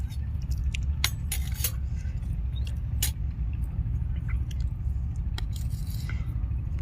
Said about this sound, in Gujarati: ચાલો ગાજર સુધારવાના છે, પછી બટેટા સુધારવાના